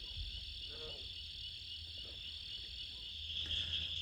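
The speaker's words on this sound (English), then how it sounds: "Hear the frogs hollering." A chorus of frogs croaks steadily at night, layered with constant high-pitched insect trilling, heard from a distance with no one speaking.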